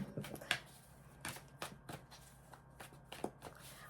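Tarot cards are shuffled quietly in a series of soft riffling bursts with short pauses between them, close by.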